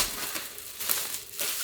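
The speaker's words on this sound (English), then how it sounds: "let's put the cream in a plastic bag" A plastic bag crinkles and crackles in short, close bursts while cream is packed into it for a backpacking meal, the rustling rising and falling in a few quick surges.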